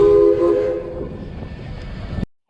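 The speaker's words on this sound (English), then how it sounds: "Lots of horns and whistles as we come through Durango." Train horns and whistles sound loudly as a train passes through Durango, Colorado, a sustained blaring blast at the start giving way to rumbling rail noise before cutting out abruptly.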